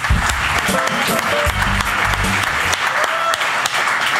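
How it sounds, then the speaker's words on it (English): Loud, dense audience applause fills an awards ceremony hall, continuous and even throughout, with a voice briefly audible beneath the clapping. "let's keep clapping because this is being recorded"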